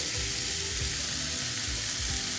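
Oil heating and sizzling in a pan on a stove, a steady bright frying hiss throughout with faint low bubbling pops, close and moderately loud, no talking.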